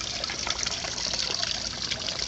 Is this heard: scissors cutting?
no